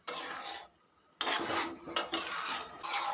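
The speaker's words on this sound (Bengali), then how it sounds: "খুব ভালো মতো সব কিছু একসঙ্গে মিশিয়ে নেব" A spoon scrapes and clinks inside a pot of ghugni, a pea curry, in bursts of metallic stirring with a short pause in between, close and fairly loud, with no talking.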